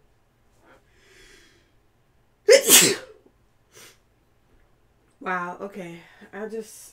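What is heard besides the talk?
sneeze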